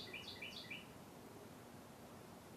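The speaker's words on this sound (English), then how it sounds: "oh, the birds out here singing." Birds singing outdoors in the early morning, a quick run of about six short chirps in the first second, faint and somewhat distant, then only quiet ambient hiss.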